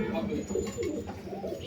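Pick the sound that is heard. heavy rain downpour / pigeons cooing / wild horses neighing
pigeons cooing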